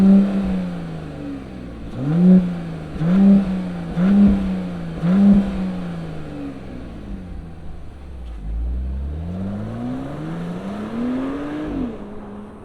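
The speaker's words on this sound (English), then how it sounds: "let's fire up this straight 6 turbocharged power plant and see this boxy beast" A 2025 Mercedes G550 turbocharged straight-six engine starts and gives four quick, loud blips of the throttle, then settles to idle before one longer, rising rev that falls back again.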